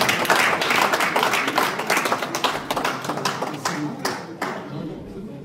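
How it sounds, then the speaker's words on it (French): A gathered group claps for themselves at the close of an official launch event in Brussels, a brisk burst of close hand claps that thins into scattered slaps and fades out. "applaudissons pour nous-mêmes"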